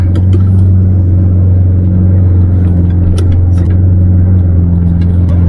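A Lamborghini Murcielago with over 300,000 miles rolls toward a parking spot, its engine a loud, steady low drone heard close up from inside the car, with faint clicks on top and no speech.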